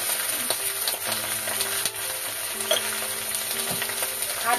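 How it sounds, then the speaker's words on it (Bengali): Flat beans and eggplant frying in a pan on a gas stove, a steady dense sizzle with crackling pops and occasional stirring scrapes throughout, close and continuous. "শিম বেগুন এবার ভাজা ভাজা হয়ে গেল আমার।"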